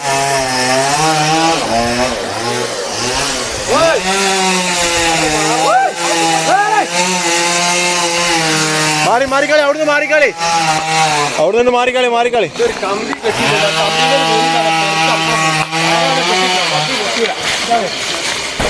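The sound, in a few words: chainsaw cutting down an oud (agarwood) tree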